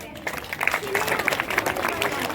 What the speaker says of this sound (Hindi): कृपया तालियों के साथ इनका स्वागत करें।